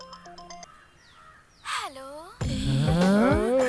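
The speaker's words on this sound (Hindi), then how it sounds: "किसी का तो फोन आ रहा है।" A phone ringtone from a Hindi-dubbed South Indian action movie plays briefly at the start as a short run of repeated electronic tones. Sweeping sound effects follow, then loud voices talking over it.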